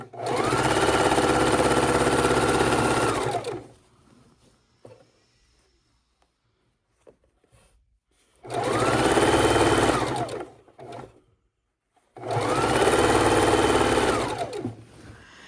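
A sewing machine stitches quilt pieces together in three loud, close bursts of rapid mechanical chatter, separated by quiet pauses while the fabric is repositioned.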